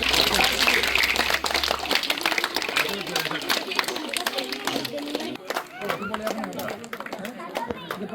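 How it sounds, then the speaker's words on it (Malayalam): A crowd claps at a community family gathering, a dense run of hand claps that swells and then thins, with voices talking over it. "എല്ലാവരും കൈയടിക്കേ"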